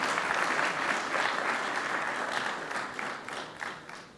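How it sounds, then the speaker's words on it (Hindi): Enthusiastic audience applause at an award convention in London, a dense wash of clapping that starts loud and gradually tapers off toward the end. "इसलिए इनके लिए ज़ोरदार तालियां होना चाहिए"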